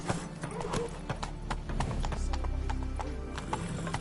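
Steady clip-clop of horse hooves in The Witcher 3: Wild Hunt, with the game soundtrack and effects underneath, plus an occasional voice nearby.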